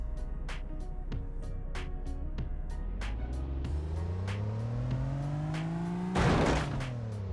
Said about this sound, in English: we see a standard VBS2 pickup truck, which will be driven into a concrete block